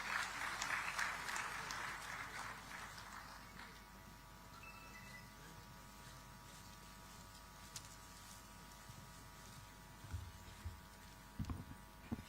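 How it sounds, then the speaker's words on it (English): Audience applause at a conference welcome during a digital technology summit in Visakhapatnam, loud and dense at first, then fading after about three seconds into a low room hum with a few scattered thumps near the end. "Let us all welcome her with an enthusiastic round of applause."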